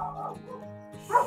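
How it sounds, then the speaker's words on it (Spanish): A small dog barks and yips in a few quick, fairly close bursts in a home kitchen where food is being prepared, with no talking over it. "Perrito, perrito, bonito."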